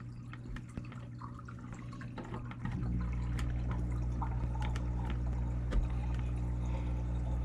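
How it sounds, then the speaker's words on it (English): Aquarium air pump running in a 5-gallon fish tank with overhead sump filtration, a steady low hum with continuous bubbling and scattered drips that grows louder partway through and holds. "And now here's the air pump."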